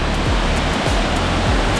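A waterfall swollen by rain upstream roars in a loud, constant broadband rush, close and unbroken throughout.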